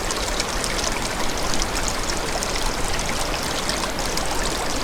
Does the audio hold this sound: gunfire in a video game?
no